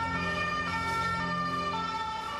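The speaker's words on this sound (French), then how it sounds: "La caméra a filmé l'ambulance emportant son corps." An ambulance siren on a Paris street sounds as a steady tonal wail with layered harmonics, holding at an even level throughout.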